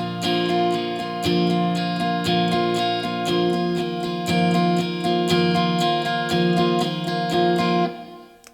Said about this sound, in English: There's a strummy acoustic part which sounds like this